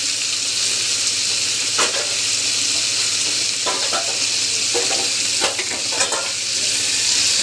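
Green chilies, cumin and mint fry in a pan with onions for a peanut mint chutney, giving a steady, close sizzle broken by several sharp scraping stirs.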